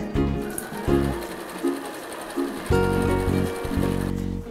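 A sewing machine stitches pieces of a quilt together in several motor bursts, starting and stopping with short pauses between runs, close and fairly loud.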